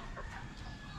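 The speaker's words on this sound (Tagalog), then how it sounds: "So itong manok ko na Brahma, iuuwi ko na." Brahma chicken on a farm clucking softly over a steady background, with faint bird-like calls close by for about a second.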